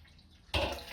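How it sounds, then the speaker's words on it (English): Water pours suddenly into a raw kebbeh mixture, a close, loud splashing gush that starts abruptly after a quiet moment and keeps running. "At this stage, we'll add a bit more water because it's hardening up a bit."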